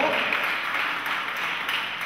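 Audience applause at a Polish-Haitian solidarity day gathering in Haiti, a steady wash of clapping from a crowd filling the room, fairly loud and sustained without a break.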